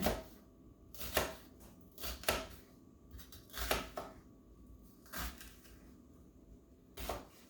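Onions are sliced with a knife on a cutting board for chicken soup: about ten sharp, separate chopping knocks at an uneven pace, close and fairly quiet, with short pauses between cuts.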